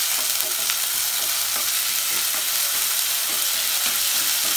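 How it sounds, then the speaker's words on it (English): Homemade ginger garlic paste fries in oil in a pan for tomato chutney, giving a loud, continuous, close sizzle with faint stirring taps spread across it. Nobody speaks. "Fry the ginger garlic paste till the raw flavor goes."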